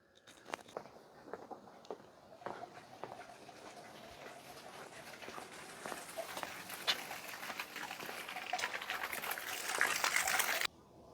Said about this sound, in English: all the water, all the gunk that's in the pipe will get flushed out of this opening here